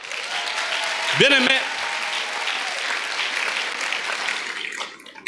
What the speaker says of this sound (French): Acclamons pour ses frères.